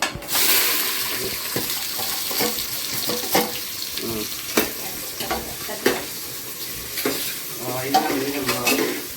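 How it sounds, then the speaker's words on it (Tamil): Onions frying in oil for beef or chicken biryani, a steady broadband sizzle with repeated sharp clinks and scrapes of a stirring spoon against the pot, close and fairly loud with no talk. "இப்போ நம்ம வெங்காயம் போட போகிறோம்"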